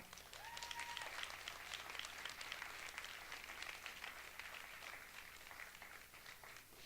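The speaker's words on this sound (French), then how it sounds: "On peut les applaudir" Audience applause greets young contestants introduced on a Quebec TV game show: dense, steady clapping from a crowd, sustained at even loudness for the whole stretch, with no talking over it.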